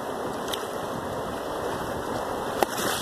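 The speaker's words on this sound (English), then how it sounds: "I let the waves move the pan as well." River water washes over a gold pan while panning, a soft, steady rushing wash with two brief splashy clicks, close and moderately quiet, with no talk.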